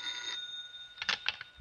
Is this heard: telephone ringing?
yes